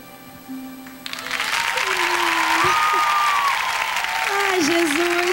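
An audience applauds the gospel singer Cassiane, with clapping swelling from quiet to a full, steady roar while a voice speaks and a sustained tone carries over it.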